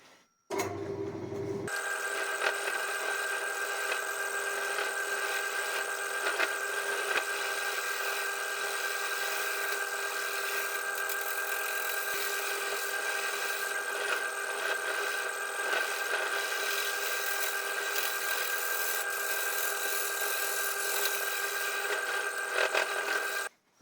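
A wood lathe spinning a wooden salt pig blank while a tool rounds it off, giving a steady bright whirring hiss with fine scraping texture that runs continuously and closely, without any talk.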